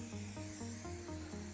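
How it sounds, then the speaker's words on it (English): Waterproofing spray misted onto nubuck leather, a continuous close hiss from an aerosol can with faint rhythmic pulses beneath, no voices. "then just spray again a thin layer over this"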